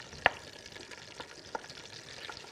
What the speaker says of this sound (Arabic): هنا معايا الدهنه اهي بشوحها.